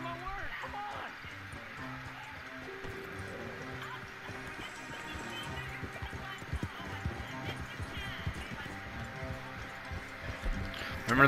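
Horse hooves clip-clopping in the Western video game Red Dead Online, a soft, uneven trotting under game music while people talk over it.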